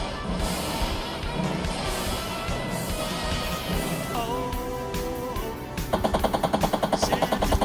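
Centipede arcade cabinet gameplay with a steady barrage of electronic missile-firing blips over a dense chiptune drone, the firing turning into a sharp, fast repeating pulse near the end, loud and continuous with no voices.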